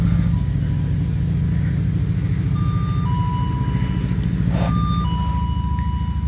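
A GM LFX V6 engine swapped into an LLT Camaro idles steadily and loudly up close, its even low rumble continuous throughout, with a few short electronic chime tones sounding over it.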